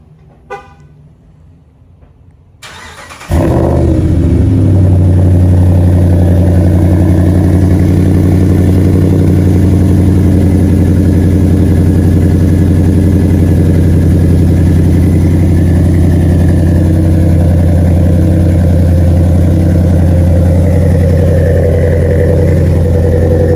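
A Ram pickup truck fitted with long tube headers cranks over and fires up after a brief quiet moment at night, then settles into a loud, steady, deep idle close by.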